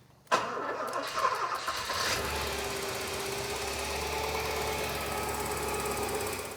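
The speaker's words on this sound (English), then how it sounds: "we started the car up for the second time" A car engine cranks and catches with a sudden burst, then settles into a steady idle rumble that continues to the end.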